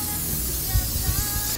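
Spray adhesive hisses steadily from a can onto an underlay board to hold a T-shirt in place, a continuous close, broadband spray with faint handling thumps beneath.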